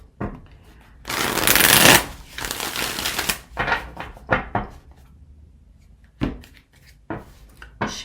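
Tarot cards riffled and shuffled by hand, a loud dense burst of flapping cards for about two seconds followed by several softer taps and slides of the deck.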